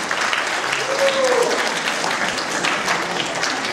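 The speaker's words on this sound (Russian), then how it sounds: "Провожаем аплодисментами." A concert audience applauds a band leaving the stage, sustained crowd clapping at close range throughout, with a voice speaking briefly over it.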